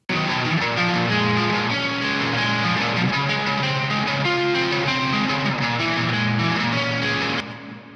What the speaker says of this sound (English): Then we have some nice crunchy guitars played by